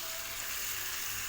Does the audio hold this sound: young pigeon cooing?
no